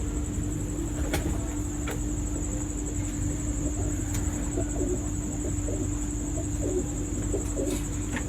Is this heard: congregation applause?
no